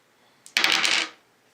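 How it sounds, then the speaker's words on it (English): Two dice rattle briefly in a board game, a quick burst of clattering tumbles lasting about half a second, close and loud, then silence. "Gonna roll 2 dice."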